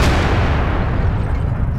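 A tank cannon fires in World of Tanks as one loud, close boom that rolls out into a long rumbling decay.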